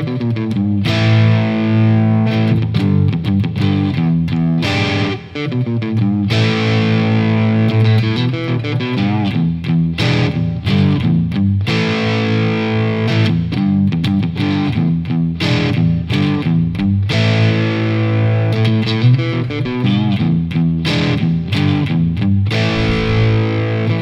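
An electric guitar with heavy distortion plays riffs: loud, continuous strummed chords and riffs with brief stops, played alone with no voice.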